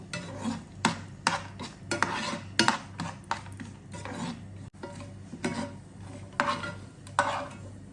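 Chopped almonds fried in a pan while mutton mandi biriyani is prepared, with close stirring and scraping of a utensil against the pan in a quick irregular rhythm over a soft sizzle.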